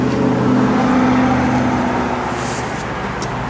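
A 1968 Chevrolet Camaro RS/SS convertible engine runs steadily at idle, a loud, close, continuous rumble with a strong low hum that eases slightly toward the end, no talking.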